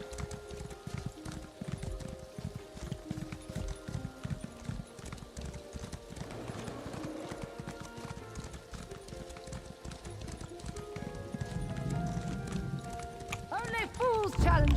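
Horse hooves galloping in Elder Scrolls Online, a steady, fast clip-clop rhythm running throughout under game ambience, with a brief neigh-like sweep near the end.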